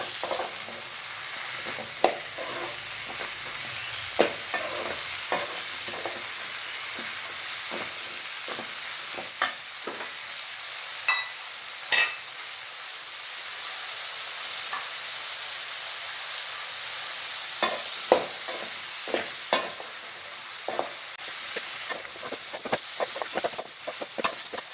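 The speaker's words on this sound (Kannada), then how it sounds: "ಟೊಮೆಟೊದಲ್ಲಿರುವಂಥ ನೀರಿನಂಶ ಬಿಡೋ ತನಕ ಸ್ವಲ್ಪ ಹುರ್ಕೊಂಡು" Tomatoes sizzle softly in a pan while a spoon scrapes and taps against it at irregular intervals; quiet and close, no talking.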